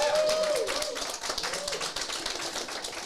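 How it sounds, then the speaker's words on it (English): Audience applause and cheering at the close of a panel discussion at Seed&Spark Innovators' House, a dense steady wash of clapping with a brief whistle near the start, holding fairly loud throughout. "with whooping applause, give them your admiration for the end of this panel"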